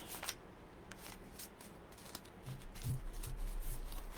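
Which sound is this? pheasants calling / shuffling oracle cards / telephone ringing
shuffling oracle cards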